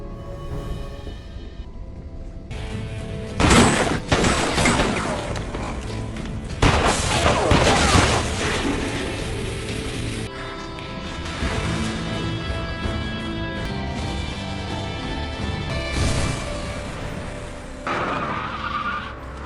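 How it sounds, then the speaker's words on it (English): Movie action scene of a gunfight in a parking lot with bursts of gunfire, booming impacts, screeching tires and a revving car engine layered with dramatic score, loud and dense throughout. "They exchange gunfire in the parking lot"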